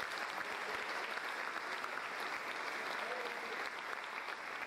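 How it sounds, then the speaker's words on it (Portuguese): A church congregation at a Portuguese-language worship service claps together in a full, steady wash of applause that sustains evenly without pause. "Então aplauda ao Senhor de todo o teu coração."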